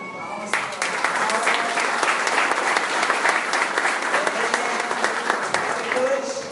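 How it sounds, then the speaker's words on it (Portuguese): An audience at a lecture event on kindness gives a sustained, even round of applause, with dense overlapping claps holding steady and fairly loud for several seconds. "Obrigada, Laura, mais uma salva de palmas"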